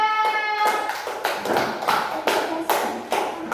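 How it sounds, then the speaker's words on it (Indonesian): Classroom of students clapping in a string of quick, crisp bursts, the hand claps close and fairly loud with short pauses between rounds, following a brief whistled or sung tone at the start. "Tepuk tangannya mana?"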